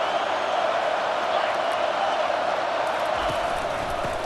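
A stadium crowd in EA Sports College Football 25 roars as a dense, continuous wash of cheering and noise, loud and sustained throughout, with a voice talking faintly underneath.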